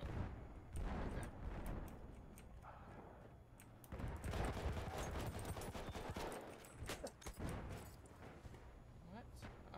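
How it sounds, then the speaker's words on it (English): Battlefield 1 battle audio with bursts of gunfire and machine-gun fire crackling throughout, loud and continuous, with distant explosions and a player talking over the shooting. "Oh, I was just shooting there."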